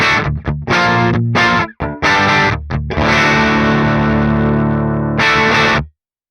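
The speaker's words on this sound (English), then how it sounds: "when I maxed it all the way, it almost gave the amplifier a bit more energy and push in the mid-range" Heavily distorted electric guitar through an Archetype Gojira X amp with the mids turned all the way up, choppy palm-muted chugs and stops leading into a long ringing chord and a final burst, loud and close with no talking.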